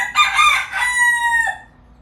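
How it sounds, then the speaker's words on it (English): A rooster crows once, loud and close, a long drawn-out call that rises and then trails off, with nothing else around it. "If there's a rooster making noise"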